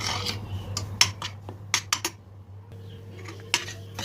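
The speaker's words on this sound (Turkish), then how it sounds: "yarım su bardağı zeytinyağı ve bir kaşık dolusu tereyağıyla iyice kavuruyoruz. Karıştırmayı hiç kesmiyoruz." Semolina roasting in olive oil and butter for Turkish kandil helva, stirred with a utensil scraping and clinking against the pan in irregular taps, over a steady low hum with no talk.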